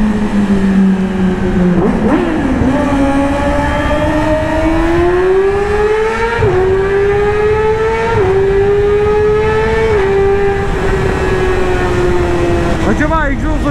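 A Yamaha R6 sport motorcycle's engine and exhaust roar loud and close at speed, pitch climbing steadily through long pulls with brief dips at gear shifts, a continuous high-revving wail.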